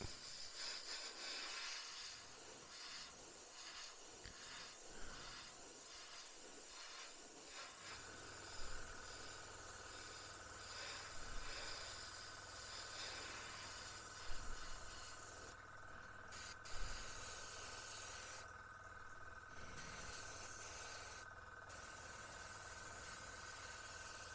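A faint, steady airbrush hiss lays a dust coat of Gaahleri Kaleido Cool White paint onto a model wing, with a low hum underneath and a few brief soft bumps.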